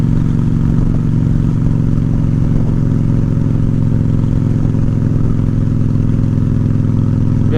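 A Honda Shadow ACE 750 cruiser motorcycle with a freshly adjusted carburetor rumbles steadily while riding, a loud, constant low engine drone mixed with wind buffeting throughout.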